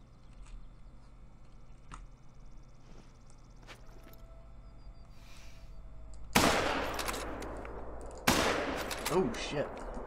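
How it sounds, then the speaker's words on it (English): Two sudden, loud rifle shots from a semi-automatic .270 in theHunter: Call of the Wild ring out close together, each followed by a long echoing tail, after a quiet outdoor stretch. "270's frickin' semi-auto? God, that's fast, Bev."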